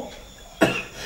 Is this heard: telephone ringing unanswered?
no